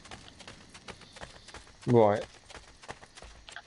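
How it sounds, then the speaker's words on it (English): Horse hooves clopping in Assassin's Creed Brotherhood, a quick rhythmic beat running under a man's speech, with a short loud whinny-like burst midway. "I am using my horse a bit more to try and speed up some of the travelling"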